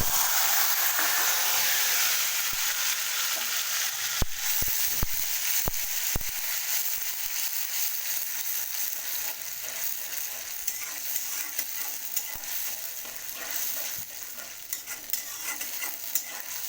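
Onion and tomato paste sizzles in hot oil for mustard hilsa, a loud, dense hiss that eases slightly over time, with scattered sharp clicks and taps from stirring.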